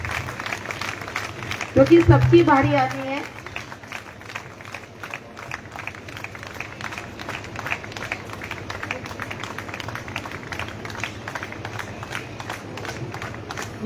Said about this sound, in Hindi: तालियां रुकनी नहीं चाहिए प्लीज